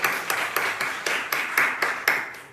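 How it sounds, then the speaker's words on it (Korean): A soldier congregation at a church service claps in unison for the worship band, a steady rhythmic beat of about eight or nine sharp claps spaced evenly and fairly loud in the room. "우리 귀한 찬양으로 섬겨주신 우리 샤이닝 밴드 우리 선배님들께 감사의 박수."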